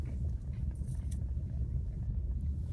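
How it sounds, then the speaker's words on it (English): Steady low rumble of road traffic in a densely populated Nairobi residential estate, cars idling and creeping in a jam, continuous and moderately distant with no voices. "It's funny that there's traffic jam even in the interior"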